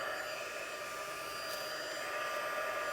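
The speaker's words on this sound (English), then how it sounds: "take my heat tool" A heat tool runs steadily, warming tissue paper onto a candle to make a personalized design; the constant blowing hiss stays even and close throughout, with no voices.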